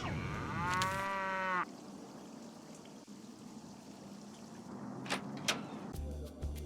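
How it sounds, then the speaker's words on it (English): A computer plays a cow moo during a Nancy Drew game speedrun. One drawn-out, loud moo lasts about a second and a half, followed by quieter background noise and a few brief clicks. "Is the man mooing? No, that was my computer."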